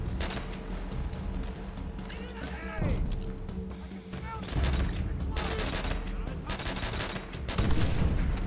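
Rapid gunfire from rifles and machine guns in a World War II shooter game, dense and loud bursts with crashes throughout, and a voice speaking over the battle.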